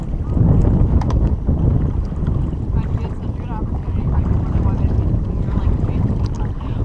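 Oars on the starboard side of a rowing boat back water in steady strokes, with splashing and rushing water, heavy wind noise on the microphone, and people talking over it.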